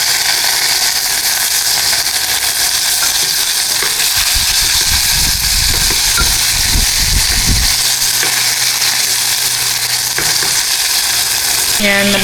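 Pompano fish frying in oil in a pan at home, a loud continuous hiss and crackle throughout, with a few clattering utensil and flipping sounds in the middle.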